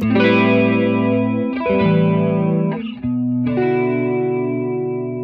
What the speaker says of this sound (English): subtler effects are also achievable. Chorus!